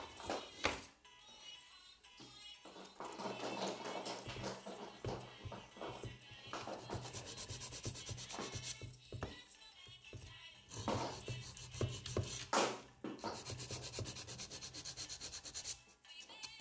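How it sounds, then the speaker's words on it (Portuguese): Steady rasping strokes of a nail file shaping Master Gel polygel nails, close and continuous with brief pauses and a few light taps, no talking. "Vou buscar aqui uma lima."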